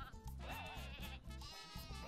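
A sheep in the Croc video game gives a short, wavering bleat over a low pulsing game soundtrack, loud and close, with no voices.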